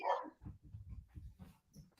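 A dog barks indoors in a faint, muffled string of repeated low yaps that sounds somewhat distant, with no talk over it.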